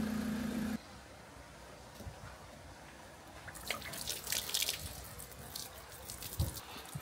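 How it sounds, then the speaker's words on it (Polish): Wastewater from a camper's tank splashes and gurgles into a dump point, starting partway through as irregular spattering and trickling, with quieter near-silence before it. "Woda się zlewa."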